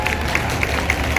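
An audience at a foundation day event claps together in a dense, continuous wash of applause with faint rhythmic peaks, loud and close, without speech.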